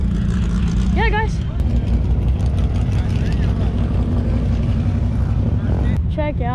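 Supercharged LS9 V8 in a Chevrolet Corvette ZR1 at a Houston drag strip, a loud, steady low engine drone that fills the whole clip under crowd chatter and excited voices.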